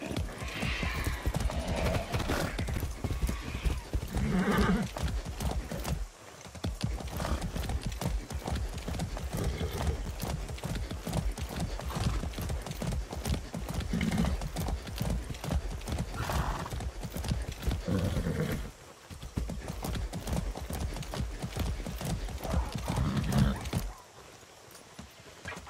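Horse hooves clatter in a rapid, continuous galloping rhythm in Far Cry 6 gameplay, loud and close, with brief whinnies and short breaks where the pace drops.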